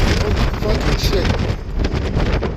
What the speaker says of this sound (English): The wind is really blowing, for real.